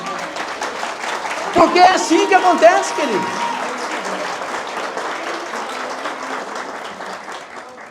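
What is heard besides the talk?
church congregation applauding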